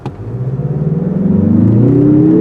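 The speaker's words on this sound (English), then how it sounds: "now that turbo's kicking in. This thing's going" A turbocharged 2024 Mazda 3 hatchback accelerates hard, its engine note rising steadily in pitch and building to a loud, sustained, close-up drone.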